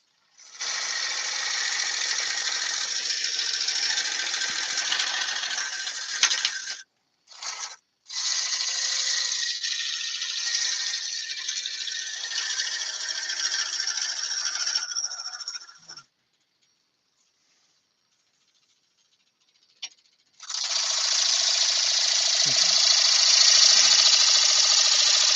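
A woodturning lathe tool cuts wet apple wood at a slow lathe speed, giving a loud, steady scraping rasp in long unbroken passes, with brief gaps and a quiet pause before the cutting resumes.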